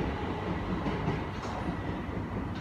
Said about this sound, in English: I think all these Southern trains terminate here and then go back off to London Victoria